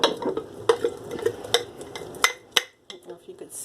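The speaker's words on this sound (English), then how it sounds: "Now I'm just going to stir it all up" Flour and water sourdough starter is stirred in a container, with a close scraping rhythm of spoon strokes and clinks against the sides that ends in a few lighter taps.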